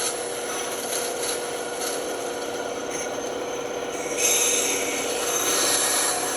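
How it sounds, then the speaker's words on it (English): A sander works on wood in a shop, giving a steady, close abrasive rubbing hiss that holds evenly throughout and grows slightly louder partway through. "I'll stick a sander in here"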